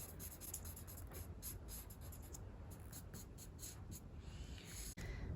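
A black crayon scribbles rapidly across paper while colouring in tall antennas, a close, quiet scratchy rasp of repeated strokes that continues steadily before a brief pause near the end.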